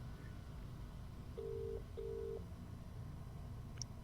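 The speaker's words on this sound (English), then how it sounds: "It's ringing." A telephone in a video game rings: two short electronic tones in quick succession, faint and thin over a low background hum, with no voices.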